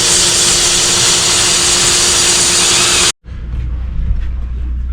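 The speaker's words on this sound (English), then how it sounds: "All right, drilled out to 3/8." A power drill whines loudly and steadily as it bores a hole out to 3/8 inch during a boost gauge install on a VW Jetta 1.8T, then cuts off abruptly and leaves quieter rumbling background noise.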